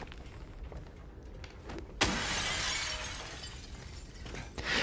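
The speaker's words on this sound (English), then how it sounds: "Smashing the windows and using them as a quick escape if I need it." Window glass smashes suddenly in the Silent Hill 2 Remake game, a sharp loud crash followed by a long bright spray of shattering and tinkling shards.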